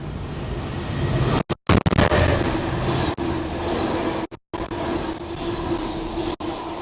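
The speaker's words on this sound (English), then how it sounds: "here comes a train" A train roars through Stamford station in Lincolnshire, a loud, close, continuous rumble with rattling wheels, its sound briefly cutting out in a few short dropouts.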